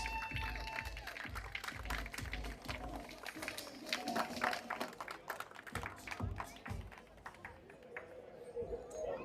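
A crowd at a drifting championship awards presentation applauds the street modified class winners. The clapping is scattered and fairly distant, with an announcer's voice and crowd noise mixed in.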